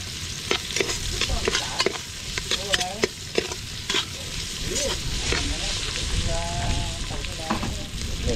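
Onions frying in a pan, a loud close sizzle with frequent stirring scrapes and clacks, plus some brief voice-like sounds in the background.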